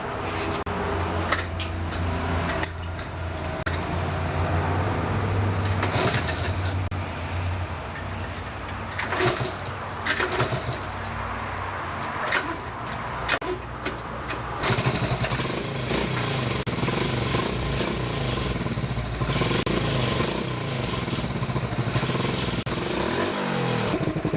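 A 1985 Honda CT70 mini bike engine runs steadily nearby after carburetor cleaning, a continuous buzzing putter with slight revving changes and no voices, ending in a low rumble.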